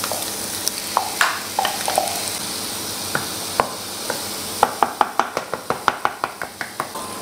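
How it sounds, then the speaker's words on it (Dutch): Chopped onion and leek fry in a pan, a steady sizzling hiss broken by sharp clicks and taps of stirring that speed up into a quick series toward the end, close and without speech. "En nu ga ik die ui en prei laten bakken."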